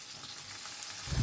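Onions sizzling softly in oil with salt and turmeric in a pan, a faint, steady hiss with a slight stir or clatter at the very end.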